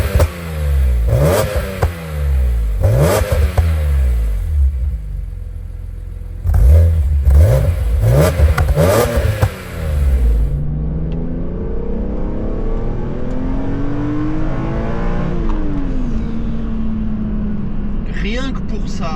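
A BMW S54 engine revs hard several times in sharp bursts, then climbs in one long rising wail that fades into the distance.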